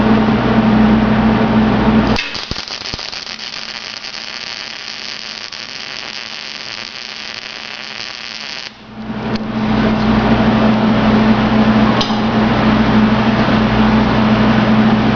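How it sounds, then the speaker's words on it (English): A MIG welder welding a nut onto a broken bolt, a steady electric buzz and crackle that stops for a few seconds midway and then resumes, loud and close. "all I'm going to do is weld that nut on"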